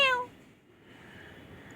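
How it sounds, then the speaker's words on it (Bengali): A cat gives a single short, clear meow at the very start, close by and moderately loud, followed by near-silence with a soft background hiss. "মিয়াও খালি মিয়াও"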